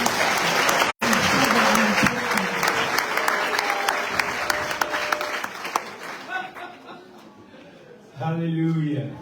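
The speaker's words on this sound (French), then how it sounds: "Applaudissez pour moi." A congregation at an ordination service breaks into loud, sustained applause with scattered cheers that gradually thins out, and then a voice begins speaking near the end.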